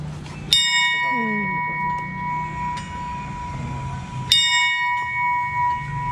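A cemetery death bell rings out twice, a few seconds apart, each strike clear and metallic with a long humming decay, under faint room noise.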